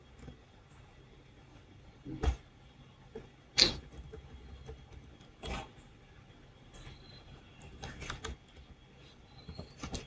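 Quiet keystrokes on a computer keyboard, scattered clicks and a few sharper taps at irregular intervals, close but soft in a quiet room with no talk.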